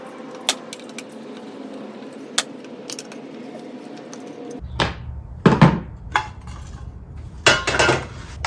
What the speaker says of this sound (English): take off our little cover for the coil packs and plugs. These are just 4 T30 screws